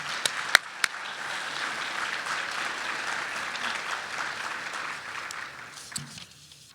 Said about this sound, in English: if you could help me give them all a good round of applause